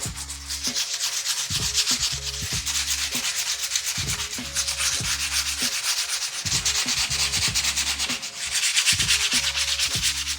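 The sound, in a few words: electric sander sanding wood with 100 grit sandpaper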